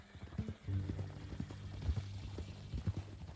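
Horse hooves clip-clop in Red Dead Redemption 2, a steady, moderately paced beat of soft thuds over a low continuous hum with some background rumble, fairly quiet and without speech.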